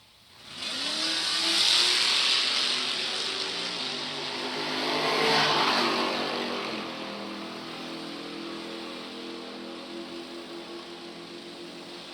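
Hot rod drag cars, a Camaro and a coupe, launch down a drag strip at a drag racing event, a loud engine roar swelling for a few seconds, then easing and lingering at a lower steady drone.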